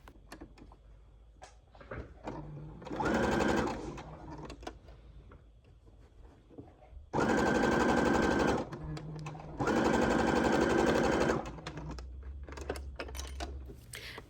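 A sewing machine stitches a dart on a wrap dress in three steady bursts, the last two longer, close and clear, with small handling clicks in the pauses between runs.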